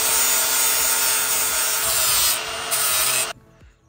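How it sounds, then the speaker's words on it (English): A power tool grinds off the tops of spinning rivets while replacing a locker cable on a Scania truck, giving a loud, continuous abrasive whine that cuts off abruptly before the end. "I have to buff them off because the rivets are just spinning"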